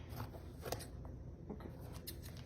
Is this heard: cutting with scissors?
yes